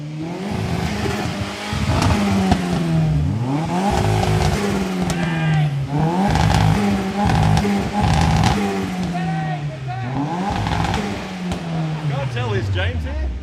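A turbocharged 660cc car engine revs repeatedly, pitch rising and falling in several loud, close sweeps over about thirteen seconds, with a voice speaking over it.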